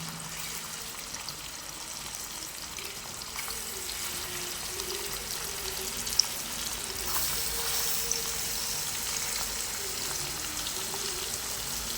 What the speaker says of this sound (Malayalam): ഇനി നമുക്ക് കൊണ്ട് വറുക്കാം.